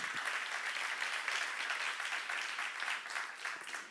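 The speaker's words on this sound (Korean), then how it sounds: "박수하세요." A church seminar audience claps steadily, a dense, even wash of applause that holds at the same level throughout.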